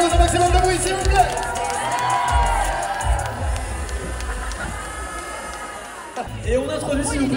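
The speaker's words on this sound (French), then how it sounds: "On peut faire un maximum d'applaudissements, un maximum de bruit, s'il vous plaît." Festival crowd at a Japan otaku convention stage show cheering and whooping loudly, a dense continuous roar of voices and shouts that dips briefly near the end before swelling again.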